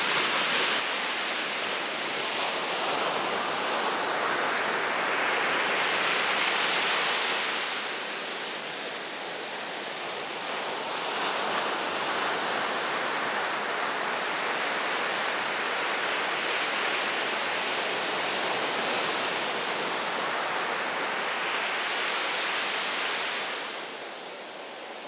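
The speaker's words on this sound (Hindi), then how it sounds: "ये नदी जो है गंगावरी है और ये समंदर" A river meeting the sea at Gokarna in Karnataka, a loud continuous wash of flowing water and breaking waves that swells and recedes in long surges, with no voices.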